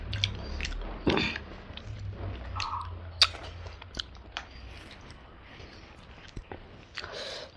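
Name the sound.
chewing spicy mutton curry with rice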